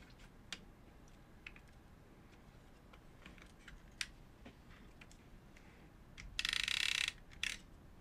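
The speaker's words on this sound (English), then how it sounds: "So I'm going to drop this tape in that way." A tape cassette is dropped into a Philips N1500 VCR, the early Philips video format, with faint scattered mechanical clicks and taps followed by a short, louder rattling clatter and a final click.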